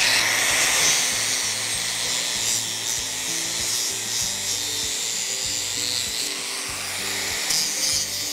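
A 4.5-inch angle grinder shapes a steel horseshoe, giving a continuous high whining grind with steady pulsing rhythm, loud and close, running without a break and with no talking.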